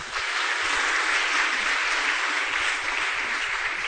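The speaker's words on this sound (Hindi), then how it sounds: "अगर आपको गौरव लगे तो ताली बजाना।" Sustained audience applause fills a religious discourse hall, a dense, steady wash of many hands clapping at fairly even loudness for about four seconds with no talk over it.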